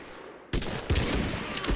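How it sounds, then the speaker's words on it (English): Gunfire from the video game Mud and Blood erupts after a brief quiet moment, with loud bursts of rapid shots and a couple of heavier cracks that carry on to the end. "I'm opening fire."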